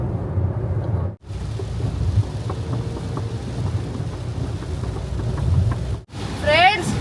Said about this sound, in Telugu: వర్షం అయితే ఫుల్ పడుతుంది ఒకసారి చూడండి వర్షం హెవీగా పడుతుంది